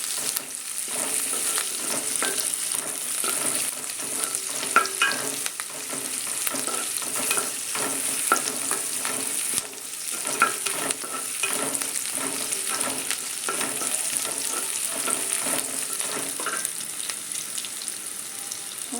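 Onions sizzle steadily in a hot pan for a village-style anchovy curry, with a spoon scraping and stirring in repeated strokes through the continuous frying hiss, close and fairly loud with no voices.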